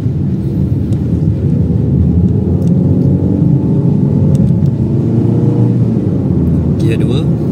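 Interior engine drone and road rumble of a Proton Saga 1.5 automatic pulling away and driving, a steady close hum that slowly builds as it gets under way, with no talk over it.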